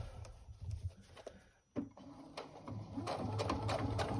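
A domestic sewing machine runs in short bursts while top stitching across the straps of a fabric tote bag, its rapid needle clatter stopping briefly and then resuming, close and fairly quiet.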